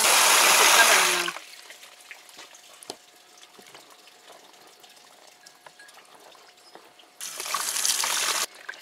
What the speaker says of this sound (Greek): Και τώρα θα τα ξεπλύνουμε πάρα πολύ καλά.